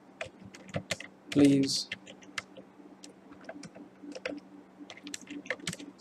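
Computer keyboard typing while entering data into a Microsoft Excel spreadsheet: scattered light clicks and taps under occasional quiet speech, with a brief louder burst of keystrokes near the start.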